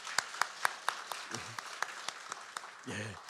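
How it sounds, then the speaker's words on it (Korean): A church congregation gives brief welcoming applause for a newly registered member during Sunday worship, with a run of crisp, regular claps that thins out while a voice speaks briefly in between and at the end. "우리 환영의 박수하도록 하겠습니다"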